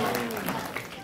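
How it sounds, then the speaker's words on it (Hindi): An audience claps at a religious discourse in Kaithal, a dense, continuous patter of many hands heard briefly, with a voice over the start. "तो बजाओ ताली।"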